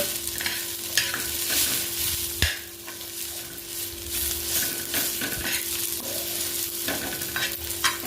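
Onion masala being stirred and roasted in a pan for a brinjal curry, a steady sizzle under repeated scrapes and taps of a spoon against the pan, with a sharp knock partway through and a constant hum beneath.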